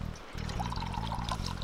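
Flavoured water poured into a cup inside a car during a company-car driving challenge, a steady close liquid stream lasting under two seconds with a brief gap near the start.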